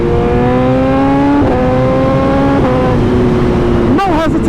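A 2013 BMW HP4 motorcycle engine revs loud and close, climbing in pitch and dropping at each quick upshift, with a sharp burst near the end.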